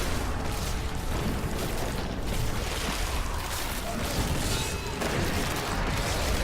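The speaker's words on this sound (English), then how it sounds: "Let's get out of that explosion." A Diablo 3 game explosion fills the scene as a loud, dense, sustained rumble and crash of noise, with faint voice-like sounds mixed in over the blast.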